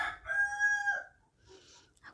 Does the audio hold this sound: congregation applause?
no